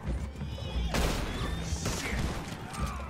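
A horse whinnies in Red Dead Redemption 2 amid a burst of crashing gunfire and clatter during a bank job shootout, the neigh rising briefly over the game noise.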